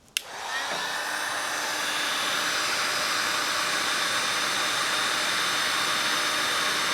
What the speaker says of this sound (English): I may put a little heat gun on it and see if it works.